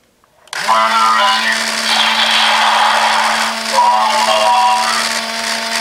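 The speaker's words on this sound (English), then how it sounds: "Then we'll press the second button to start revving up the motor." Tomica Hero DX Jet Falcon toy motor spinning up after a button press, a loud, steady whirring hum that kicks in abruptly and holds level, with a bright, buzzy high-pitched tone.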